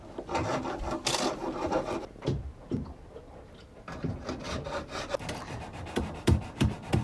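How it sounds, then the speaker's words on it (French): Steady abrasive rasping and scraping as a boat hull is sanded, a sanding rhythm with occasional knocks and thumps, fairly close and continuous. "on entend Damien qui s'occupe de poncer la partie de la mare"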